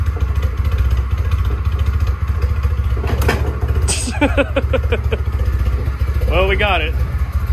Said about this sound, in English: Might need an idle air control valve because it doesn't like to idle that much.